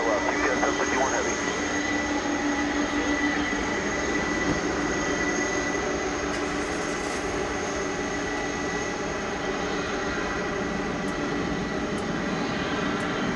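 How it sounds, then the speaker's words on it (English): A jet airliner taxiing toward runway 18 left at night makes a steady, even engine whine and rumble that carries on without a break, heard at a distance. "So it's a trucking on over to runway 18 left, hopefully, for takeoff"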